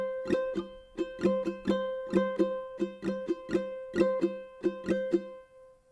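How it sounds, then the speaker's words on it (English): Ukulele strummed in a repeating down, down, up, down, up pattern, rhythmic bright chord strokes in even groups, played close and moderately loud with no voice over it. "we're going to do a simple strumming pattern, down, down, up, down, up"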